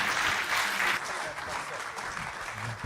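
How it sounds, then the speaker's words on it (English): Audience applause for a panel at a tech conference stage, steady dense clapping from a large crowd throughout, fairly loud and filling the room, with faint voices beneath. "Big round of applause for our panel."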